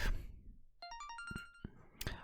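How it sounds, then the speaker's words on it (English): A mobile phone ringtone plays a quick run of bright electronic melody notes, fairly quiet against a dim background, with no speech. "That is until the phone rang."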